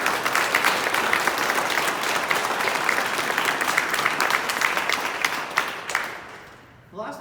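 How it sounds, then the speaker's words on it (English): A room of people applauds college staff at a Conestoga College announcement in Guelph City Hall. The sustained, dense clapping stays loud for several seconds, then thins out and fades at the end. "maybe we could give a round of applause to our amazing staff"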